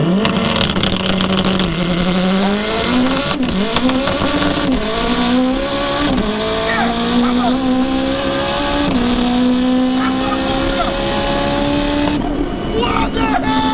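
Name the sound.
car accelerating hard on a drag run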